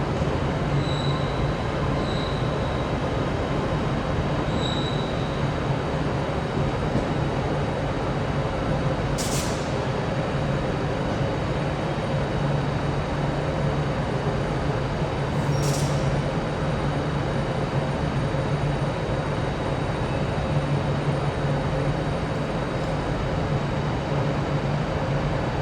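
A Class 385 electric train pulls out of Glasgow Central station with a steady, loud rolling rumble throughout, broken by two brief high wheel squeals partway through. No one speaks.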